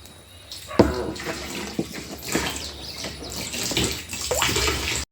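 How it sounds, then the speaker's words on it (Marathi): Tap water runs steadily into storage tanks, a continuous splashing rush with a few sharper knocks and clatters of containers along the way. "त्याच्यामुळे आता हे पाणी आलेलं आहे. पहिलं सगळं भरून घेते, टाक्या वगैरे स्वच्छ करायची आहे."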